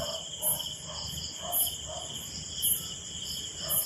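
Insects chirping at night in an abandoned village, a rhythmic pulsing trill repeating about once a second over a constant high insect drone, close and clear with no talk.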